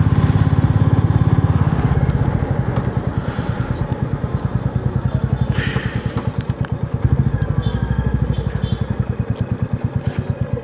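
Four motorcycles run together on a Mustang road trip, their engines making a loud, continuous rhythmic thumping close by that holds steady throughout with slight swells.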